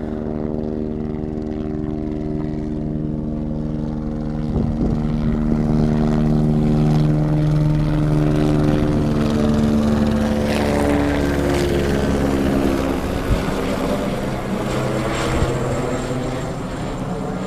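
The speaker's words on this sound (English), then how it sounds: "That's a border patrol chopper right there, boys." A border patrol helicopter flying low overhead in snowy country, its droning engine and chopping rotor loud and close, swelling in the middle before easing slightly.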